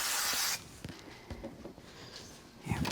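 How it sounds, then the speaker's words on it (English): Spray adhesive hisses in one short, close burst onto the back of a die-cut sentiment for a handmade card, followed by faint rubbing and handling sounds. "So I'm going to just put a little spray on the back of this one"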